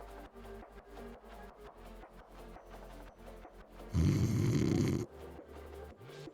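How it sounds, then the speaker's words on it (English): A person snoring in a rhythmic series of breaths close to the microphone, fairly quiet, with a louder burst of noise in the middle before the snoring resumes. "What you snoring for?"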